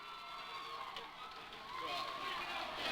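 Crowd cheering and shouting at a 2001 Central Massachusetts Division 3 high school hockey game after a goal, a steady broad roar that swells louder toward the end.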